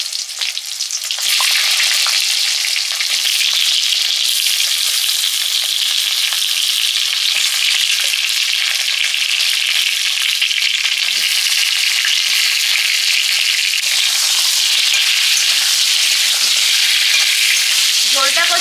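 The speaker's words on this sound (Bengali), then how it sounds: "আগে সবজিগুলো দিয়ে দেবো, সবজিগুলো ভাজা হবে।" Eggplant and sweet potato pieces fry and are stirred in a pan of hot oil with dried red chillies and whole cumin for a fish curry, giving a loud, steady, close sizzle with occasional scraping of the stirring spoon.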